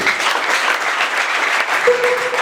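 A church congregation breaks into loud, steady applause that fills the whole stretch, dense and continuous, with a faint sustained tone drifting in near the end.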